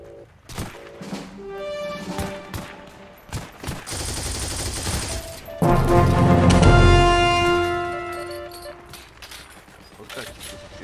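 Bursts of Heroes and Generals gunfire, single cracks and rapid automatic volleys, with one loud sustained barrage midway, amid excited chatter from players.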